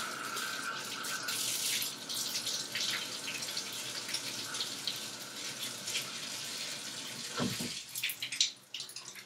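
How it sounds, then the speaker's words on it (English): A bathroom tap runs steadily into a sink while an exfoliating brush is rinsed, a close, continuous splashing stream with a sharp interruption near the end. "I'm going to go rinse the brush, come back, and do another scrub."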